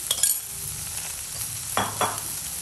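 Okra sautéing in a pan with turmeric, masala, salt and lemon juice makes a steady sizzle, broken by a few quick scraping stirs near the end, and no one speaks.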